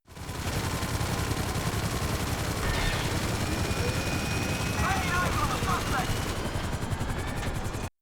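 Buzzard guns firing from a Weaponized Conada helicopter in a video game, a dense continuous mechanical roar of rotor and rapid gunfire filling the whole stretch at steady loudness.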